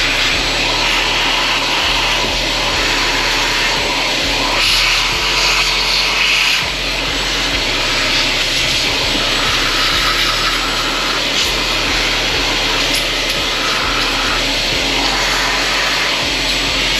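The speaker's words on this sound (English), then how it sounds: "We can now go ahead and grab our vacuum, like I said, clean as much of this dirt up as we can" A vacuum cleaner runs steadily, sucking up dirt and debris around the intake manifold of a 2015-2020 Hyundai or Kia engine, with a broad, loud whooshing drone and rubbing, shifting tones as the nozzle moves.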